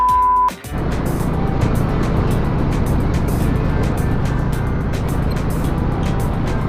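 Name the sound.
road traffic heard while riding a Royal Enfield Bullet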